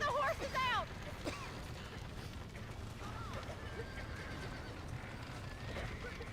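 Horses neigh with a loud, shrill whinny at the start, followed by fainter whinnies and clip-clopping hooves under background noise.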